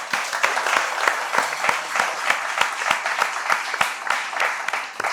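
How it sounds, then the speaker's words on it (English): An audience at a climate quiz applauds two third-place schools, including St. Stephen's College, with brisk, evenly paced clapping that holds steady and close throughout. "Ladies and gentlemen, please join me in applauding these both schools."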